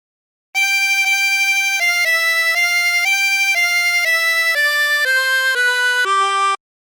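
Harmonica playing the first phrase of The Streets of Laredo, a clear sequence of about a dozen sustained single notes stepping up and down, loud and close with no talk.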